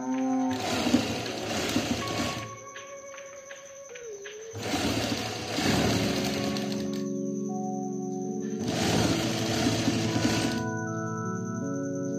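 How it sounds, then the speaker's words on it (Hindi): Sewing machine stitching lace onto a shirt hem, running in three separate whirring bursts of a few seconds each, separated by quieter pauses with faint tonal hum and handling noise. "उपर आपां सिलाई ला लैणी है।"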